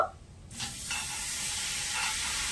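Mango pieces coated in sugar sizzle steadily in a hot wok for pickle-making, a continuous bright hiss that swells after an initial quiet moment and holds at an even level.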